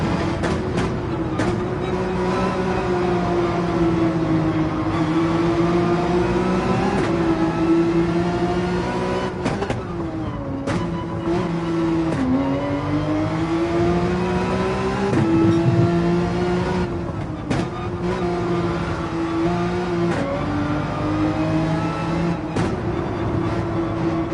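In a racing video game, a car engine drones loudly and without a break on a race track, its pitch rising and dipping with revving and gear changes throughout.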